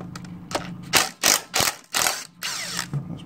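A ratchet undoes a 10 mm bolt on a seized ATV engine, heard as several close, loud bursts of fast clicking separated by short pauses.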